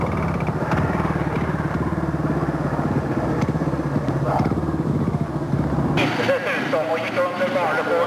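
Speedway motorcycles race at a 1991 Swedish Speedway final in Vetlanda, engines droning loudly and continuously over crowd noise, with a commentator talking throughout and the tone changing near the end.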